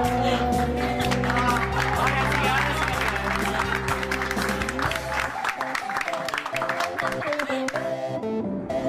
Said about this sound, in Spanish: Termina el show y todos aplauden.